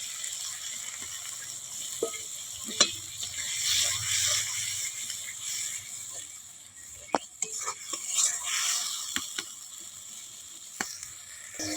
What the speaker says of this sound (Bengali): কষানো হয়ে এসছে, আর একটু কষাবো, তারপরে জল দিব।